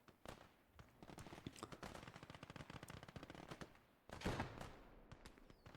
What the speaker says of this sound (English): A nice little crossfire going on now.